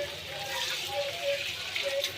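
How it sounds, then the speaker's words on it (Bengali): Water pours into a pan of taro and potato curry with a soft, continuous splashing and gurgle over a faint background hum. The sound is close but quiet. "আমি জল দিয়ে দেবো।"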